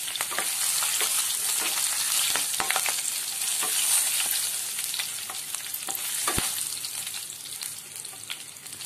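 Bay leaf, green chili, cloves, cardamom, cinnamon and star anise fry in hot oil with browned sugar for a mutton curry. The sizzle is loud and close, broken by sharp clinks and scrapes of stirring.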